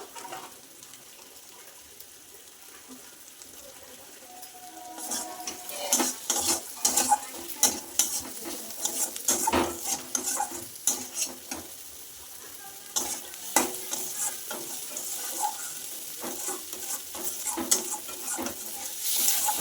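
Masala spices with a little dry chilli powder fried in a pan for a fish roe and potato curry, with a continuous sizzle under busy, irregular stirring and scraping that grows louder and denser partway through.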